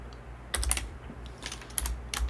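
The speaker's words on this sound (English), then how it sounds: "we'll just type it in" Several quick bursts of keystrokes on a computer keyboard while entering an arctangent calculation into a graphing calculator, clustered in short rhythmic runs with pauses, close and fairly quiet with no talking.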